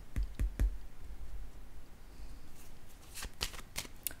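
Tarot cards handled on a table during a reading: sharp papery clicks and soft slaps at the start, a quiet stretch, then a few more crisp card snaps near the end, close and fairly faint, with no talking.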